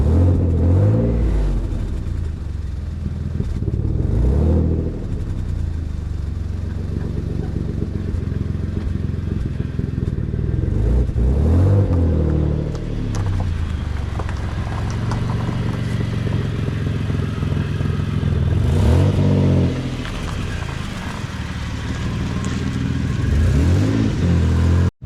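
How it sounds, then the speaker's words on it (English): A Nissan 300ZX twin turbo running with an exhaust leak at a flange that isn't flush, its engine idling roughly near the mic and revving in repeated surges, with a ticking, puffing exhaust rasp. "that exhaust definitely blowing where that flange isn't flush"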